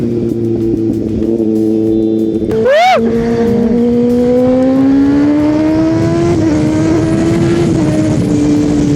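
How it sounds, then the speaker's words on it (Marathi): Loud engine drone of heavy road traffic close by, with a passing car or motorbike revving sharply, steady traffic noise throughout. "बापरे कसलं मोठं ट्रॅफिक लागलंय राव"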